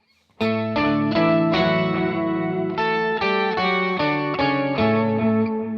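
Electric guitar through a Fractal FM9 preset with a higher octave effect, strumming a steady sequence of sustained chords with a shimmering, chorused, slightly distorted tone, loud and alone.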